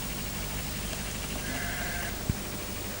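Sheep bleat out in open fields on Exmoor, one or two calls mid-distance over a steady outdoor wind-like background, with a brief knock near the end.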